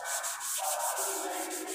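Hand sanding of car body filler with 1000-grit sandpaper, a steady close rasping rub with regular back-and-forth strokes, no voices.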